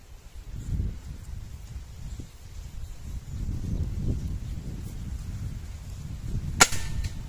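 A single sharp crack from a Hatsan HT135 gas ram air rifle, fired once near the end after quiet outdoor rustling, close and brief.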